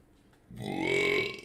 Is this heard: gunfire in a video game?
no